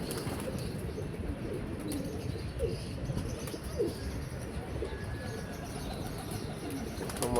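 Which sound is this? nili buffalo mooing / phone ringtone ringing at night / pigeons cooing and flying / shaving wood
pigeons cooing and flying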